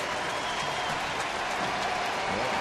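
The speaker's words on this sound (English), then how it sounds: "the crowd will rise up again" A baseball stadium crowd at a Texas Rangers game in Oakland applauds and cheers in a dense, continuous wash of clapping, with no voices standing out.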